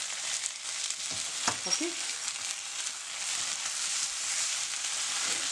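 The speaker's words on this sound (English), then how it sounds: "Make sure you fry this on a low flame." Masala for chana dal gravy fries on a low flame in a pan, a steady close sizzle with a couple of soft stirring knocks, and a voice briefly speaks over it.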